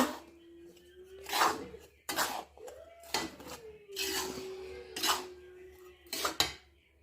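A spoon scrapes and clatters against a metal pot while mixing rice flour and sugar, repeated strokes in bursts with short pauses between, close and fairly loud.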